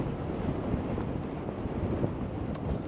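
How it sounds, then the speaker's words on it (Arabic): Strong wind buffets a microphone outdoors along a difficult road, a steady loud rumbling roar with gusty swells and no talking. "راه كيدور عليا الريح"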